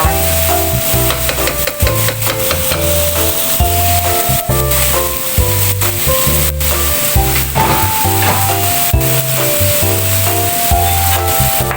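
Beans sizzling steadily in a hot pan while being stir-fried for pansit, a continuous loud frying hiss with rhythmic stirring scrapes, accompanied by background music.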